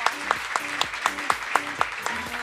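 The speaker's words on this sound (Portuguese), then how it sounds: "Venha cá, uma salva de palmas." A small group claps in a steady rhythm, sharp regular hand claps repeating about every quarter second, close by.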